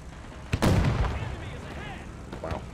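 An artillery piece fires once in the video game Men of War 2 while US engineers defend their position, giving a sharp, loud crack and a rolling boom that fades out. A smaller thump follows near the end.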